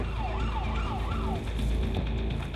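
An ambulance siren wails in rising and falling sweeps over steady road and engine rumble, fairly loud and close, responding to a scaffolding collapse call.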